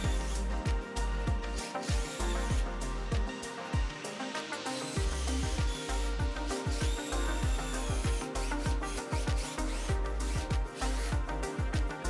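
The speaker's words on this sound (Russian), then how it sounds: "Далее сверлим еще несколько отверстий сверлом на 3" A power drill with a 3 mm bit bores several holes, its motor whining steadily while repeated sharp bursts mark each bite into the material, close and continuous throughout.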